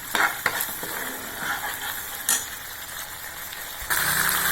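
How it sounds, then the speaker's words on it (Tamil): Onion masala for cauliflower varuval sautéing in oil in a pan, with a constant sizzle broken by a few sharp scrapes of a spoon stirring, close and steady, with no talking. "நல்லா இந்த பச்சை வாசம் போக வதக்கணுங்க."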